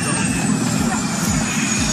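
A firefighting helicopter with a failing engine drones steadily and loudly throughout, its low rotor and engine noise continuous, with a voice faintly mixed in.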